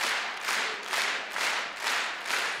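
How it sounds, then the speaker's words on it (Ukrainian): A concert audience at a singer's show applauds in several rising and falling waves of clapping, fairly distant and moderately loud. "Привітаємо їх нашим аплодисментом."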